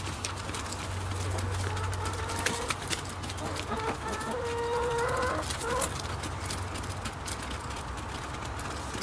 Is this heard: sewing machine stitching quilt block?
no